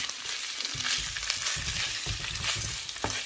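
Ginger and garlic frying in a pan for a chicken and spinach curry: a continuous close, bright sizzle with soft stirring scrapes rising and falling throughout.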